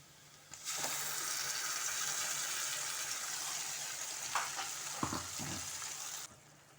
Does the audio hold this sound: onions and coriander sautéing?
yes